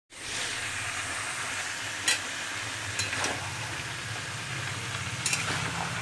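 Food frying in a pan, a steady close sizzle and hiss running throughout, with a few brief scrapes of stirring over the top.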